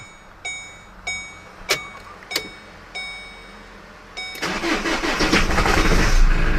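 A car with a fault that makes it jerk and stall on starting cranks in several short, sharp bursts, then catches at the end and settles into a loud, rough running engine.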